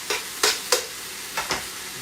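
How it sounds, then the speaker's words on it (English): Mushrooms and onions browning in a pan for chicken marsala, with five sharp spatula scrapes and stirs over a faint sizzle, close and without voices. "Put some more mushrooms in the bottom of the pan. And let these brown up."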